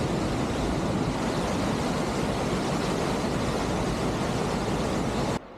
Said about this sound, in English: The best part about all the waterfalls and how loud the water is